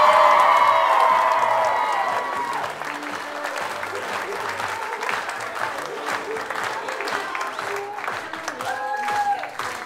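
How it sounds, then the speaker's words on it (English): Wedding guests at a country club reception applaud the bride, loud clapping mixed with cheers and a whoop that fades slightly, while voices and a few children's shouts rise through the crowd. "keep your applause going if you think Kaylee is the most beautiful woman in the room"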